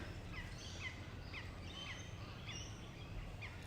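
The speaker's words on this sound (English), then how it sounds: "The dominant sound is of the birds." Several kinds of birds sing and chirp in a forest, hidden in the undergrowth. Their short, scattered calls come from different directions at a moderate distance over a steady low rumble of background noise.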